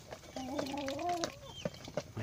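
Backyard chickens at sunrise feeding time give a drawn-out clucking call, fairly close and quiet, followed by a few short clucks and rustling, with other farm birds faintly around.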